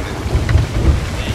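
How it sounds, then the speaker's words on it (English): Rumbling thunder and steady rain from a storm at sea in a pirate video game: loud low rolls of thunder over a dense, continuous patter of rain. "are we headed for the thunderstorm?"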